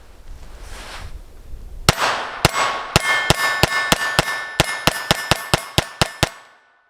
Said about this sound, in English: First shots out of the KELTEC P17.